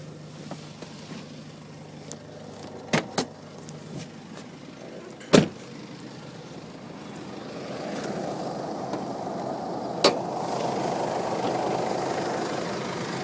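The diesel engine of a 2006 Jeep Liberty CRD 4x4 Limited idles under the open hood, a low steady rumble broken by a few sharp clunks, with the engine note swelling louder toward the end.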